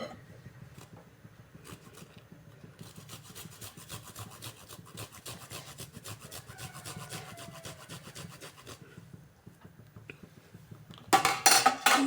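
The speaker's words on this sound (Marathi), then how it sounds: "गवती चहा आलं खिसून टाकायचं" Fresh ginger is rubbed over a hand grater for a homemade cough and cold remedy, giving close, steady rhythmic rasping strokes that end in a few louder clattering scrapes.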